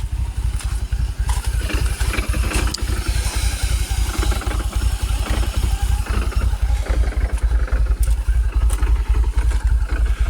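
Loud, close Jaguar XKR (X100) engine idling at low revs with a constant uneven rattle and clatter from the supercharger throughout.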